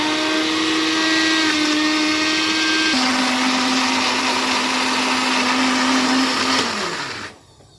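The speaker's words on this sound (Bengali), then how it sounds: "তো দেখো এটা আমি 11 3 জার পার্সোনাল ব্লেন্ডারটাতেই ব্লেন্ড করে নিচ্ছি।" A personal jar blender grinds onion into paste with a loud continuous motor whine that shifts pitch a couple of times as the load changes, then cuts off near the end; no voices.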